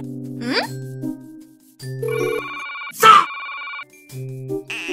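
An animated telephone rings in loud repeated electronic bursts with short gaps between them, and cartoon character voices speak between and around the rings.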